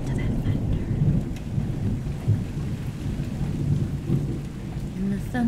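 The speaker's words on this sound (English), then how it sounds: "Oh, listen to that thunder." Rolling thunder rumbles low and deep through a steady rainstorm outside a house, the long growl swelling and easing in waves under constant rain patter, fairly loud and close.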